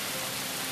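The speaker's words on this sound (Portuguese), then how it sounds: "Igual está chovendo aqui." Rain falls in a steady, dense hiss of fine patter, a continuous wash of noise at a moderate level with no other sounds over it.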